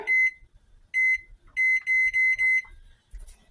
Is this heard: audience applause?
no